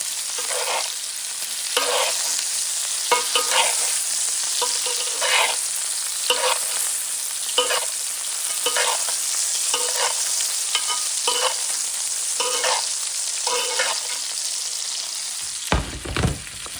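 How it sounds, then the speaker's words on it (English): A reverse-seared ribeye steak sizzles loudly and steadily in a hot pan while it is basted, with repeated spoon scoops and scrapes against the metal breaking through the constant hiss. "And we're going to baste."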